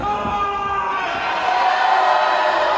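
A wrestling crowd in Reading roars and cheers steadily, a dense wash of voices and whoops that swells slightly near the end, with a commentator speaking over it.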